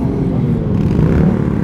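A Kawasaki ZX superbike engine roars loud and close in one continuous low, throaty drone lasting under two seconds.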